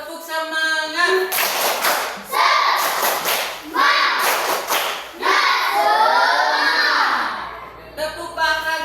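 An Indonesian school class claps hands together in rhythmic patterns, bursts of clapping alternating with children's voices chanting clap routines like "tepuk semangat" and "tepuk bahagia", close and lively in a classroom.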